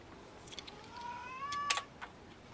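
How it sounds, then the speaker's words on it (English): A single drawn-out cat meow rising in pitch, with a few faint taps and clicks around it in a quiet room. "I apologize if you can hear my cat."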